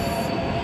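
A Punjagutta metro train gives a steady, loud rumbling roar with a faint high squeal, continuous throughout the short moment.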